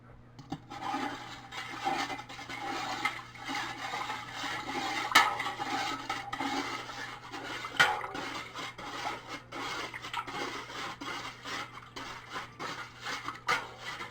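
Sugar being stirred in water for homemade wine, producing a soft, repeated scraping and rubbing of a spoon against a pot, with occasional sharper clinks, fairly faint and close.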